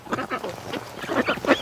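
Several ducks, some unwell and kept in a small-scale breeding setup, give a rapid string of loud nearby quacks, bursts overlapping in an uneven rhythm with no talk over them.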